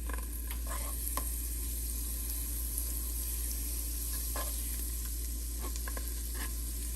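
Butter sizzling steadily in a hot, wide pan on a stovetop, a continuous close frying hiss with a few light clinks and stirring scrapes, no voices.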